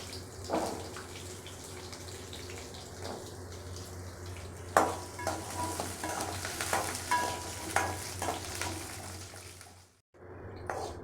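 Onions sautéing in a pan for mustard chutney: a continuous close sizzle broken by scraping stirs and occasional spoon knocks, dropping to a brief silence near the end before the frying noise returns.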